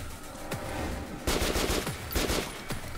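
Automatic gunfire in Metro Last Light Redux crackles in two loud bursts with a few single shots between them, over a low background rumble.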